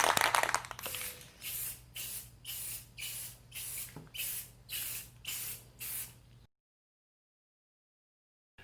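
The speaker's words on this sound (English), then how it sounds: "We're going to paint this tank gloss black." Paint sprays in about nine short, evenly spaced bursts onto a motorcycle gas tank being coated gloss black, each hissing pass close and crisp with brief pauses between, ending in silence.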